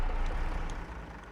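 Heavy truck engine in Farming Simulator 22, a steady low rumble with a broad droning hum, loud and continuous through a short stretch with faint higher tones above.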